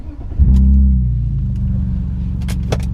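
BMW E46 engine fitted with custom headers, X pipe and a Magnaflow muffler, heard from inside the car as a loud, deep engine burst and rev that settles into a steady low rumble.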